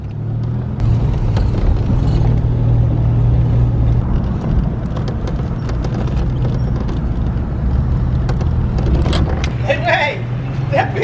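A Cadillac DeVille on a test drive gives a steady low engine and road rumble throughout, loud and continuous, with people talking over it.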